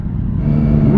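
A three-cylinder motorcycle engine, leaking oil everywhere, revs with a deep, rough, tractor-like rumble, loud and close, building slightly in intensity over a single second with no talking.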